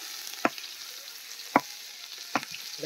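Chopped onions frying in a pan at a night camp in the Sundarban forest, a soft sizzle broken by three sharp spatula knocks against the pan at roughly one-second intervals.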